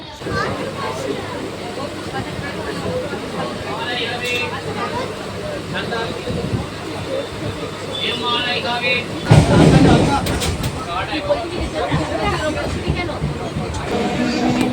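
Busy railway platform at Nalikul station, with crowd chatter and a rumbling train in the background, a louder burst of clatter midway, and nearby voices talking throughout.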